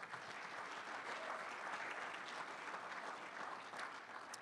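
An audience claps at a chamber of commerce awards gala, a steady, even wash of applause heard faint and distant throughout.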